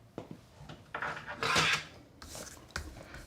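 Petal pink cardstock being cut to size on a paper trimmer, giving a few short scraping and sliding strokes with a longer rasping pass in the middle, close and fairly quiet.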